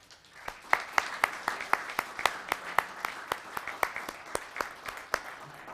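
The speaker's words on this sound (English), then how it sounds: "Let's give them a round of applause." A small audience at a town council meeting applauds new youth commissioners, with sparse, clearly separate claps from a few people in a rhythmic run lasting several seconds in a quiet room.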